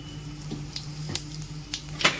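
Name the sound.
cumin seeds sizzling in hot oil in a wok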